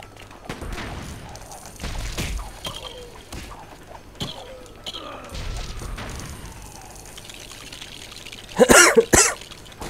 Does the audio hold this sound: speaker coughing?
yes